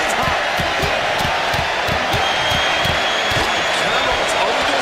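A hot wrestling arena crowd in the WWE 2K26 video game roars steadily and loudly throughout, a dense continuous wash of cheering with rhythmic low thuds underneath.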